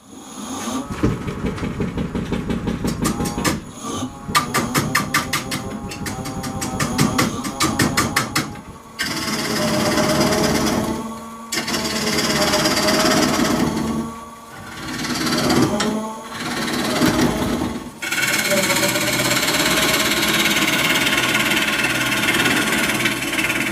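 A wood lathe rough turns a wobbly, uneven walnut bowl blank, giving a steady motor drone with rapid rhythmic knocking from the tool catching the uneven face, broken by several brief pauses and restarts.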